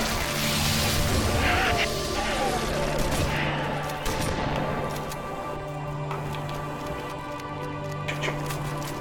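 Shotgun blasts and gunfire in the Halo 3 video game, a dense run of loud bursts and impacts over a low game drone, with a player talking at times.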